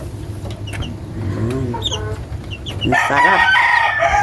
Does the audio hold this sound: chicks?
yes